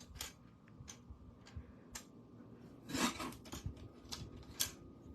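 Scissors snip scrap paper while a greeting card is being made, giving quiet, irregular clicks and short cutting strokes with a brief cluster of louder snips in the middle, close and alone.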